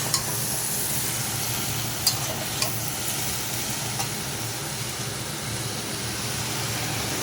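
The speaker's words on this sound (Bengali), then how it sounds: "জল দিয়ে দেব।" Bottle gourd curry in a pan sizzles steadily after water is poured over the sautéed mix, a close, continuous hiss with a few small clinks of a utensil and no voices.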